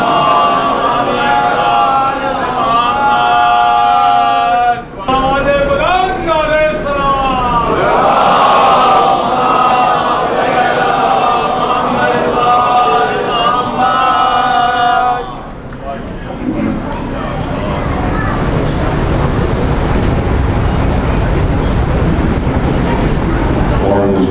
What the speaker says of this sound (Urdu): آپ حضرات سے گزارش ہے بلند آواز میں نعرے صلوات پڑھیے